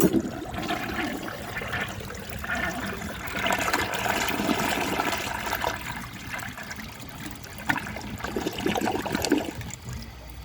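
A 1957 Kilgore Atlas forward trap toilet flushes with a loud rushing gurgle of water that stays steady and close, then shifts to trickling refill near the end.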